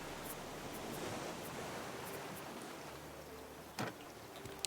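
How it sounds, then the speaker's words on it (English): Ocean waves in the video game Raft form a constant loud broadband wash with no pauses, alone apart from a faint brief knock near the end. "These waves are so loud."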